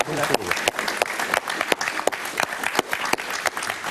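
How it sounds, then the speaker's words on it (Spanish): Studio audience applauding on a Spanish-language TV talk show, dense continuous clapping with sharper individual claps throughout, loud and close, with no speech over it. "Un aplauso para Carlos"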